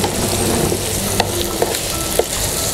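Bacon and zucchini sizzle and fry in a pan with a constant crackling hiss, punctuated by a few sharp clicks of a utensil stirring, close and loud with no talk.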